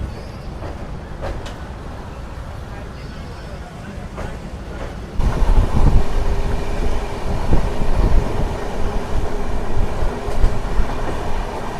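The Bokaro Express, a passenger train, rumbles along the track from inside a carriage, a steady low roar that grows louder and denser about halfway through with faint rhythmic clatter.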